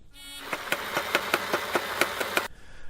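A Nerf Rival Nemesis blaster fires foam balls on full auto, a loud close motor whir punctuated by about ten rapid, evenly spaced shots over two seconds before stopping abruptly.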